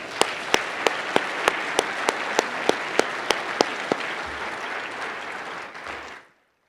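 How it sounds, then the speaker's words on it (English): Conference audience applause for award winners, a steady, full roar of clapping with a regular series of sharp, evenly spaced claps standing out close by, continuing until it cuts off abruptly near the end. "Let's give all of our award winners one more round of applause."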